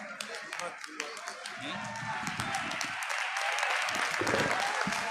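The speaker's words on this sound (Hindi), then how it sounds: "जोरदार तालियों से स्वागत किया जाए" Crowd applause welcoming guests at a district panchayati raj representatives' honor ceremony in Tosham, Bhiwani; steady, somewhat distant clapping that builds over several seconds beneath ongoing talk.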